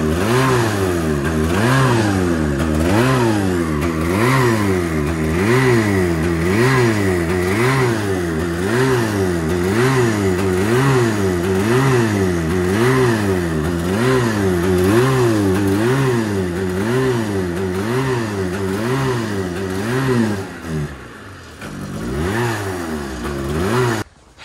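A snowmobile engine that is starved of fuel runs with a loud, rapid wavering throb, surging up and down in a steady rhythmic revving pattern close by, then cutting out abruptly near the end.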